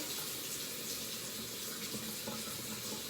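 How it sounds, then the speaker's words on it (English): A bathroom tap runs warm water in a steady, broadband hiss, close and continuous with no voices over it. "And then I turn on the water."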